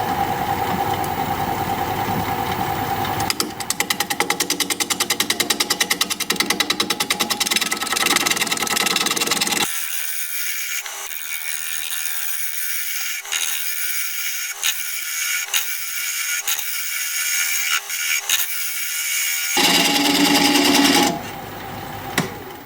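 A wood lathe spins as a half-inch gouge rough-cuts a wooden bowl, making a steady, gritty scraping and a motor hum with repeated rhythmic ticks from the gouge catching, loud and close, with no talking.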